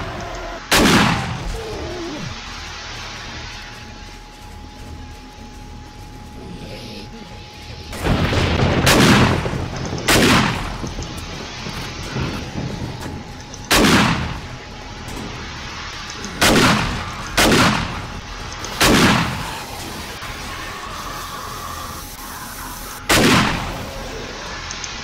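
Gunfire from a gun during a horde night in 7 Days to Die, loud booming shots fired one at a time at irregular intervals, each with a rumbling tail, a few clustered close together.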